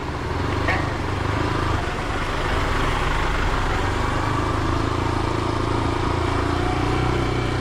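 A motorcycle rolls slowly through a crowded market in Malolos City, its engine a steady low rumble running throughout at close range amid busy street ambience.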